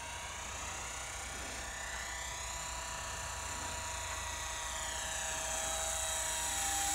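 Small Eachine Mini P-47D RC warbird, an EPP foam model, flying at full throttle: a thin, high electric motor and propeller whine that stays steady, its pitch slowly bending as it passes, heard alone at a distance.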